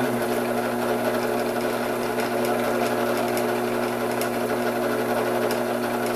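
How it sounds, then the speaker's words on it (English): Steady machine hum of a lathe spinning the workpiece while the center is found, a constant near drone with a high whine and no cutting bursts, running alone without talk. "So let's turn it on, and because of our material is spinning and not the tool, we'll be able to find the center."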